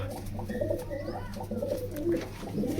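Pigeons sunning themselves after a year shut in give repeated low, throaty coos that rise and fall softly, quiet and close, over a faint steady hum.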